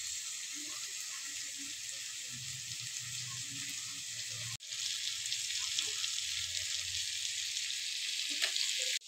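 Boiled egg bhurji frying and sizzling steadily in a pan, a continuous hiss with a brief break midway before it resumes slightly louder, faint occasional clinks, no talk.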